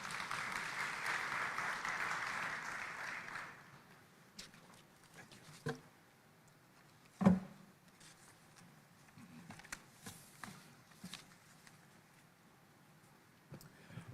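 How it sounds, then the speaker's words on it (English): Audience applause at the 18th COMESA Business Forum and Exhibition, a dense wash of clapping from a large hall that fades after a few seconds into scattered claps, thumps and room noise. "let us put another round of applause to the President of COMESA Business Council, Ja"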